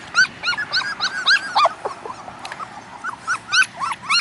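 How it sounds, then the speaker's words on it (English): Puppy, a Parti Doodle, whimpering and yipping in a rapid string of high, close, fairly loud whines and squeaks with brief pauses, no talking. "She's kind of a laid back puppy."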